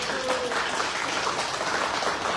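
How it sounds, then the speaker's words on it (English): An audience at a grant kickoff event in Chattanooga claps together in sustained, dense applause, steady and fairly loud throughout the short moment. "Everybody give them a round of applause."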